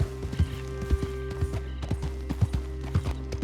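Hooves of a galloping horse in Red Dead Redemption 2 thud in a quick, regular clip-clop rhythm, close and distinct over a faint steady background hum.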